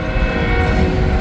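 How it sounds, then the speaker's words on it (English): A freight train horn blows one loud, sustained, close blast, with a low rumble underneath. "That's why he's blowing his horn."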